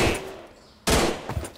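Gunfire in a Minecraft hunger games match: a faint burst at the start, a short pause, then a sudden loud volley of shots close up.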